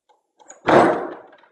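A single door thuds shut, a loud close thump that quickly fades, preceded by a faint click of the latch.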